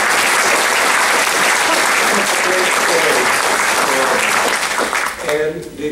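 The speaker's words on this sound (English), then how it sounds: "Can I just ask for another round of applause for those?" Loud, dense applause fills an awards recognition ceremony honoring students' essays, a crowd clapping continuously before tapering off near the end as a voice begins over it.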